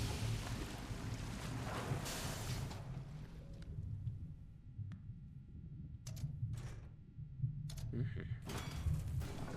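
Mechanical water-draining sequence in the video game FAR: Changing Tides: a broad rushing, watery wash with low rumbling machinery underneath, easing into quieter churning and scattered clanks and splashes near the end.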